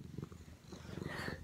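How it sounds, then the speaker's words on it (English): A pet cat that needs a bath purrs steadily and close, a low rumbling texture running through the whole stretch without any talk. "This is my cat."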